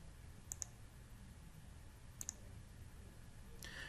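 Mouse clicks on a button in TRACE 700 HVAC software, two quick pairs of sharp, close clicks spaced apart over a quiet room hum.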